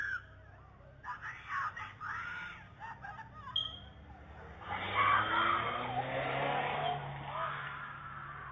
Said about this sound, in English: a white vehicle speeding down the street with the trunk open